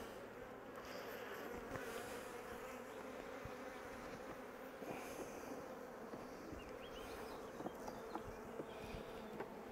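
Honey bees buzz around a hive in a dense, steady drone that fills the whole stretch at low volume. Individual bees occasionally pass close by, with no voices.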